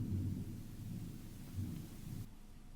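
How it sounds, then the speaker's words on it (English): Thunder rolls during a storm as a low, rumbling grumble that swells and fades over a bed of steady rain, heard indoors at a moderate distance. "I hear thunder"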